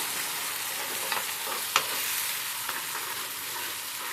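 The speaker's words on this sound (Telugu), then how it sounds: "ఇప్పుడు ఇది దీనిలో టమాటా వేస్తున్నాను. టమాటా పేస్ట్ చేసుకున్నాం కదా, అది వేసాను." Tomato paste sizzles with ginger paste in a hot pan, a steady close frying hiss broken by one sharp stirring clink and a few soft scrapes.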